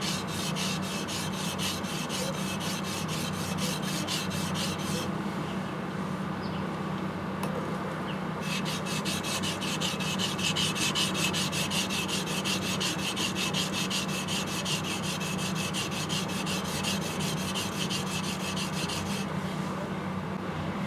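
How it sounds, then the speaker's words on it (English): A sushi chef's knife is ground on a natural sharpening stone, a close, steady rhythmic scraping and rasping of steel on wet stone that continues throughout with only a brief lighter stretch midway. "so this way you can grind off, kind of pinpoint, exactly where you want to grind off."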